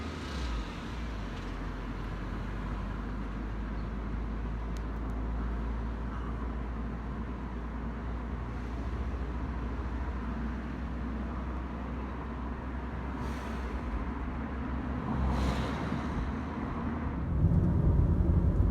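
A parked Jaguar X-Type engine idling during lockdown storage, a steady low rumble with a constant hum, fairly loud and near, with no talk.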